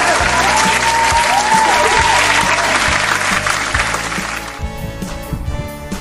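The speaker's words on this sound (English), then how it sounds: "Since you listened well, give yourselves a loud round of applause!" Loud round of applause on a school radio reading and writing lesson, many hands clapping steadily with music underneath, then fading out near the end.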